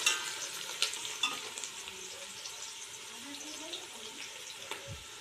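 Onions frying in a pan for chicken biryani, stirred now and then, a steady close sizzle with occasional scraping clicks and light spoon knocks, no talking.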